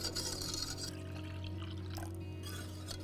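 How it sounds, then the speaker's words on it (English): Water trickles and pours a little at a time into a lemon meringue pie filling mixture in a pot, a steady soft liquid sound over a low background hum. "Give that a mix, and then we'll slowly add in some water"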